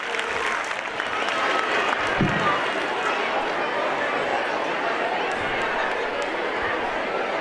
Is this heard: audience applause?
yes